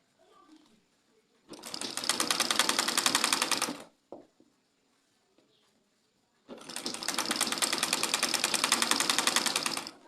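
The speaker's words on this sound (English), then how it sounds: "So as you sew, you stretch it." A sewing machine stitches an elastic band in two sustained rapid bursts of even, buzzing needle strokes, close and fairly loud, separated by a quiet pause with a small clunk.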